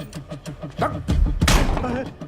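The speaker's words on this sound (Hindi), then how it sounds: "दरवाजा तोड़।" Heavy thuds against a door being broken down in a comedy film scene, a couple of loud, deep slams landing after a patter of lighter knocks, with voices around them.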